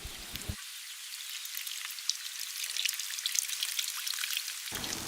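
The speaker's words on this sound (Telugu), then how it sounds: "ముందుగా నానబెట్టుకున్న చింతపండు పులుసు ఇందులో పోసుకుందాం" Soaked tamarind juice is poured into hot oil in a pan of stuffed brinjal curry, setting off a loud, steady hiss and crackle of sizzling that runs for several seconds before cutting out, with no talking.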